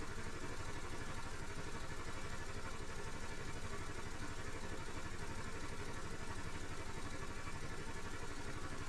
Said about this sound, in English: if I open up this valve fully, in theory, we should be able to slam up that engine speed massively.